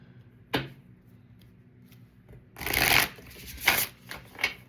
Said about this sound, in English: I am dropping the shit out of these cards